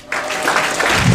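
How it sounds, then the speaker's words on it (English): An audience breaks into a short burst of clapping and applause, dense and steady for about a second. "Clap your hands."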